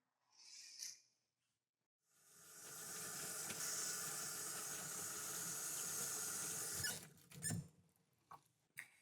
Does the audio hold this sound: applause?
no